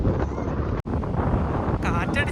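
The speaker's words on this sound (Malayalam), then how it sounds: "കാറ്റടിച്ചിട്ട് എന്ത് കാറ്റ്" Loud wind on a seaside cliff batters the microphone with a heavy, constant rumbling roar, cut off for a split second partway through, while a voice talks faintly under it.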